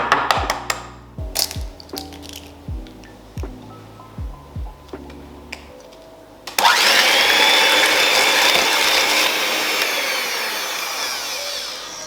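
Cookie batter with eggs is beaten by an electric mixer, first in a string of short whirring bursts, then one loud continuous run that holds steady and close.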